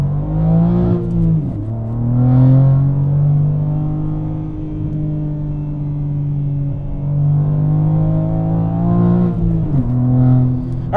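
A 2023 BMW G80 M3 with a six-speed manual drives along, its engine humming steadily from inside the cabin, dipping and rising in pitch through two distinct gear changes.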